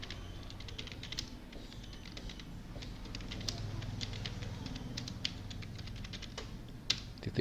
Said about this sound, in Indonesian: saya ketikkan di sini.